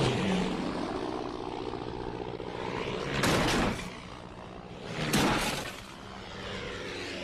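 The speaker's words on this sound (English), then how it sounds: "Look, there's Mr. Quagmire's plane." A cartoon propeller plane performs aerial acrobatics at an air show, its engine droning steadily before two loud, swooping passes swell up and fade away. No voices are heard.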